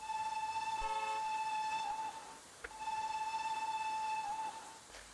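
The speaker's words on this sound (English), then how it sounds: "It's quite a nice whistle." A steam locomotive whistle from a train simulator game sounds two long, steady, tonal blasts, the first about two seconds and the second slightly longer. They are separated by a brief gap with a short chuff.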